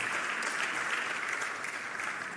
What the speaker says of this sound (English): let's give Lucia a round of applause